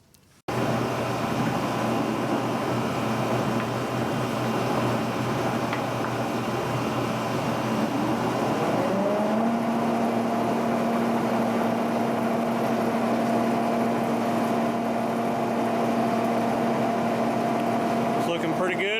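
A milling machine spindle fitted with an end mill spins up with a rising whine that settles into a steady tonal hum over constant broadband motor and fan noise, running continuously without speech.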